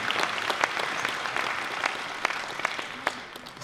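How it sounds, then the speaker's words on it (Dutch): An audience applauds Amani at an intimate matinee performance, a sustained patter of many hands with sharper individual claps standing out, continuous and without talk. "Mag ik een applaus voor Amani?"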